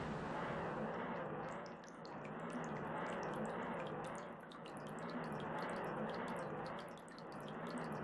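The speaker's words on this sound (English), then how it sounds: "It's a really satisfying water sprinkling sound too." Water sprinkling sound effect in the video game Zelda: Ocarina of Time, a steady hissing spray with fast pattering droplet ticks that swells and dips in slow, regular waves, continuous and alone.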